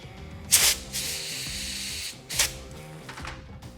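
Short bursts of compressed air hiss sharply from a rubber-tipped air hose blowing dirt from a fuel injector, two strong blasts and some fainter puffs over a low mechanical hum.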